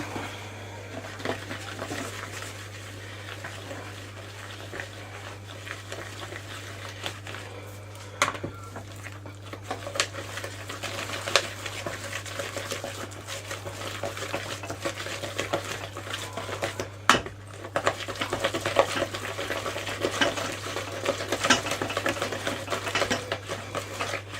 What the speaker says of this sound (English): And we'll give that a whisk.